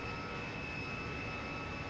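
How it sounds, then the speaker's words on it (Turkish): A jet fighter engine roars in the flight game Jetfighter V, a steady, loud, unbroken drone with a thin high whine and no talking. "Bize yönelen var mı? Yok gibi duruyor."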